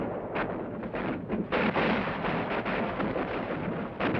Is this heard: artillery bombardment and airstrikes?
yes